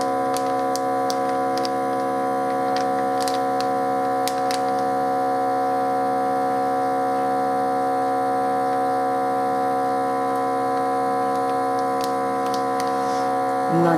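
A Cosori appliance runs its vacuum cycle with a steady electric hum and tonal drone, with faint ticking clicks scattered over the top throughout.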